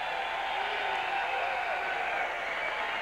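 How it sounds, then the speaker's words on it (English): Applause and crowd noise fill the arena after a boxing match between Verno Phillips and Kassim Ouma, a steady, dense roar of clapping that holds at an even level throughout. "Big round of applause for these gladiators."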